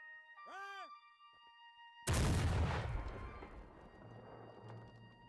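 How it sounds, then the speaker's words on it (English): A 32-pound naval cannon firing a single load of canister shot booms once, loud and sudden, its blast rolling and decaying over several seconds; a brief tonal sweep precedes it. "So we will begin with the 32-pound naval cannon"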